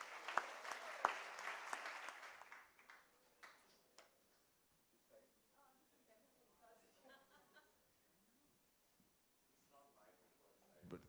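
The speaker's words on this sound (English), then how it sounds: "let's just give a big round of applause to this Renaissance woman" Audience applause at a book launch interview, a dense burst of clapping for the author that fades out after a few seconds, followed by scattered voices and laughter.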